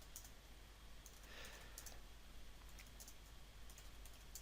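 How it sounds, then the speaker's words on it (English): Typing on a computer keyboard while entering router commands: steady, light key clicks in quick irregular bursts, faint and close, with no one speaking. "Press the equal button again, tells the router I've finished typing."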